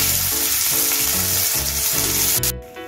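Onion sizzles steadily in hot white oil in a pan, a dense, close frying hiss that holds at the same level throughout before cutting off abruptly near the end.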